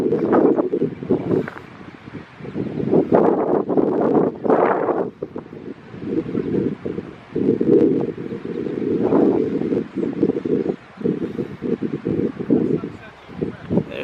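Wind gusting strongly across the open ground at the white cliffs of Conoy, a steady roaring buffet against the microphone with talk over it throughout.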